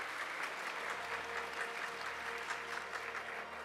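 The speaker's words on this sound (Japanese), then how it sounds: "皆様今一度大きな拍手をお送りください" Steady, moderately distant audience applause at an advertising award ceremony in Toranomon Hills for a CM Gold winner, even dense clapping without voices.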